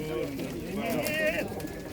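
Pigeons coo at an outdoor pigeon market in Radom, Poland, brief throaty calls heard close over a busy background with people talking.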